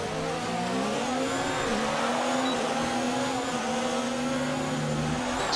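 High-revving Formula 1 engine from the racing game F1 2019 at the Austria GP, a steady loud whine holding near-constant pitch with small gear-shift dips, continuous throughout.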